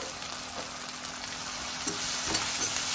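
Hyderabadi chicken majestic frying with curry leaves in a pan, a continuous dense sizzle at moderate level with occasional soft crackles and stirring clicks, no voices.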